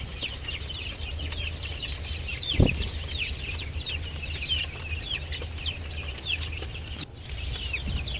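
Farmyard chickens cluck and chatter steadily in a coop where young growing birds are being raised and fed, with a brief low thump near the start and no talking.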